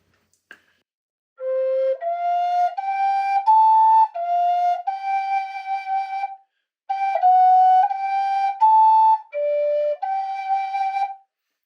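Native American flute playing a short melodic phrase with F substitution fingering, a breathy, clear tone moving through sustained stepwise notes in two legato groups separated by a brief pause, close and loud.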